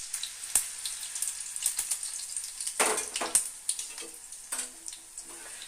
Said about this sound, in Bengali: আবারও আমি এক হাতা ব্যাটার তেলের মধ্যে দিয়ে দেবো।